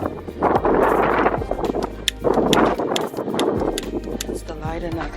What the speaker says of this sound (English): It's the wind.